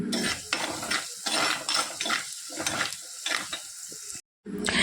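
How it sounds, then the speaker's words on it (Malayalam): Onion, ginger and garlic sautéing in coconut oil: an up-close crackling sizzle with repeated rhythmic scrapes and stirs of a spoon against the pan, broken by a brief silent gap near the end. "ഇത് നല്ലപോലെ വഴറ്റണം കേട്ടോ അതിൻ്റെ പച്ചമണം മാറുന്ന വരെ ഒന്ന് വഴറ്റി കൊടുക്കണം"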